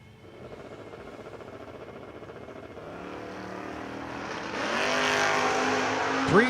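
Drag race cars, a third-gen car and a 1969 Camaro, launching at a $10 Grands event: engine roar builds from distant to loud over several seconds, with a rising whine at the end.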